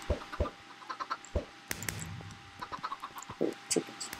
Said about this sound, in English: Oh, chickens. It's the chickens here.